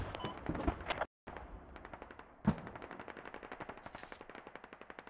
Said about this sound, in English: End of fire mission. Target. Fire mission over. Last volley.